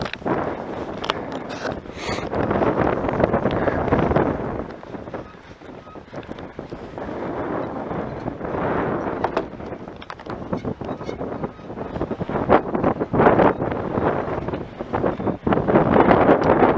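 Strong gusty wind roars and buffets against the microphone in loud rushing bursts, rising and falling throughout.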